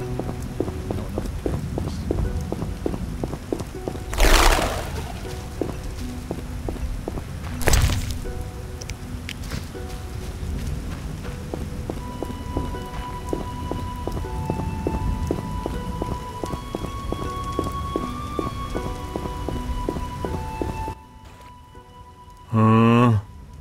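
Steady rain falls in the video game The Witcher: Enhanced Edition, a continuous close patter over soft game music, with a couple of sharp thuds early on and a brief louder burst near the end.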